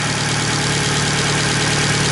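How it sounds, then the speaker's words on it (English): A 2012 Fiat 500 Abarth engine idles steadily at a low, even rumble after its first start following a throttle body upgrade, close by and continuous with no talking. "Just going to let the engine warm up a little bit and take her out for a run."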